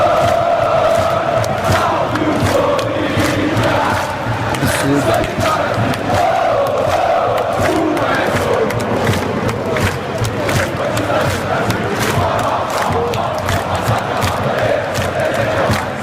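Corinthians football supporters chant in a packed Brazilian stadium, a dense, steady roar of massed voices with rhythmic surges running continuously and loudly throughout.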